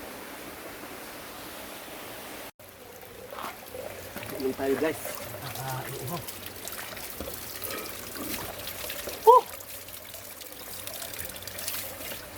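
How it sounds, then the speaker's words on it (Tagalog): Natural mountain spring water flowing outdoors, a soft steady trickle and wash running throughout at moderate distance, with someone talking briefly over it. "Na ganito yung spring water, ano, natural spring water sa bundok."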